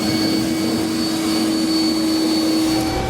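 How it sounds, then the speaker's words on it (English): A vacuum cleaner runs continuously up close, cleaning up metal drilling debris in a truck bed, a loud steady whine with a constant high-pitched tone. "now we can use a vacuum to clean up our mess."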